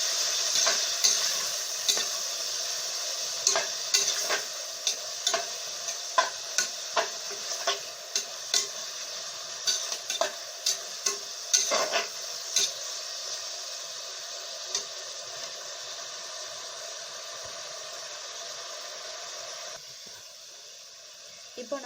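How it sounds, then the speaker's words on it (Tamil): Tomatoes sautéing in a cooker, a steady sizzle broken by frequent sharp clicks and scrapes of a spoon stirring, quieting near the end. "தக்காளி நல்லா வதங்கிடும்."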